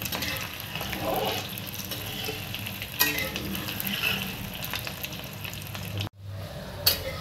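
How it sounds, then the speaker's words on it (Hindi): Potatoes browning in a hot pan give off a close, continuous crackling sizzle with occasional scrapes of stirring, briefly cut to silence near the end before the frying resumes, with no talking. "इस आलू को थोड़ा ब्राउन कर देते हैं।"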